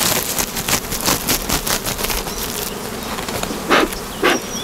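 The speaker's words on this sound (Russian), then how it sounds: "Воспитательница полна пчелы." Dense, steady buzzing of many honeybees around a hive frame in a queen-rearing colony, close by, continuous throughout with a few louder swells as bees pass near.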